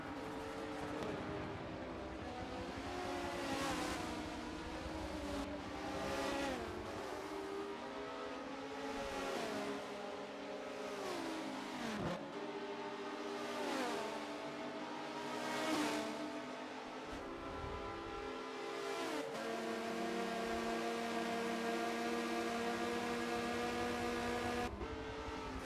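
Race cars lapping the Watkins Glen circuit in a racing video game, engines repeatedly revving up and falling away through gear changes, a steady run of passes with one car droning close and loud throughout, no talk.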